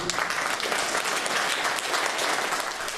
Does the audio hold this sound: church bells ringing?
no